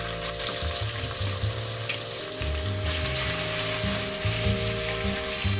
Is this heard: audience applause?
no